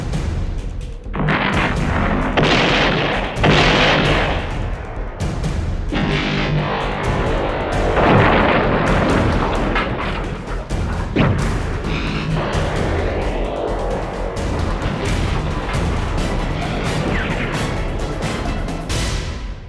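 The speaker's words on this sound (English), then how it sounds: "Look! The rest of the Stobor fleet is exploding!" Spaceship fleet blowing up in an animated cartoon, a dense, loud barrage of overlapping booms and distorted blasts rolling on without a break.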